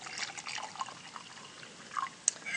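Water poured into a beaker holding a sand and salt mixture gives a close, soft trickling and splashing with small drips and a few bright plinks, steady for a couple of seconds with no talk over it.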